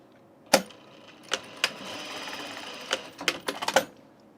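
A sewing machine stitches seams on an unlined auburn blazer in short runs, with sharp bursts of rapid needle clatter separated by brief quiet pauses and a longer steady run in the middle.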